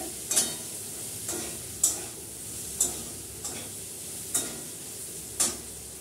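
Food frying in a pan gives a soft, steady sizzle, broken by sharp metallic stirring taps at roughly one-second intervals.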